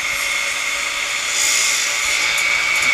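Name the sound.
cutting the handle off a wooden outrigger canoe paddle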